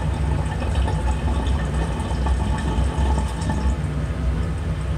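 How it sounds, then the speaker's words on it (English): Water gurgling and bubbling through tubing on organic chemistry lab apparatus, a dense continuous churning rush that stays loud and steady throughout, with no talk. "See how I'm getting like some gurgling and stuff right there?"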